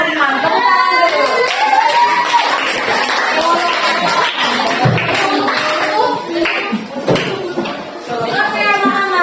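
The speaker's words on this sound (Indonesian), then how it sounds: "Tepuk tangan dulu." Children clapping hands in a classroom Sunday-school lesson, loud irregular claps mixed with chatter and a teacher's voice throughout.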